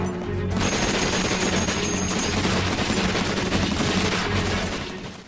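Rapid, sustained gunfire from sci-fi guns in Doctor Who, a loud, dense fusillade of shots crackling continuously for about five seconds.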